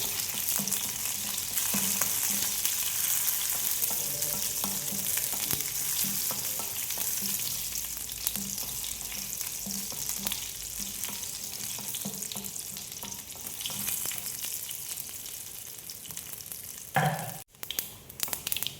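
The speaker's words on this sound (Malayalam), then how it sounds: "കടുക് പൊട്ടിയിട്ട്" Mustard seeds spluttering in hot oil while making chutney: a steady, close, loud hiss of frying with scattered pops and crackles, alone without talk, briefly interrupted by a sharp clatter near the end.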